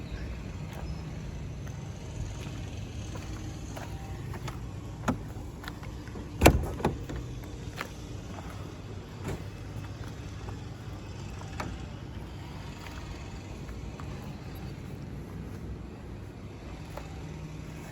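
A 1926 Voisin vintage car with an aviation-derived engine idles steadily after a cold start, a low continuous rumble with a sharp knock or clunk partway through, no talking over it.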